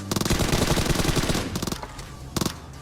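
Rapid automatic gunfire in PUBG, loud and close, rattling in a long sustained burst, then pausing before two shorter bursts near the end, with no talking over it.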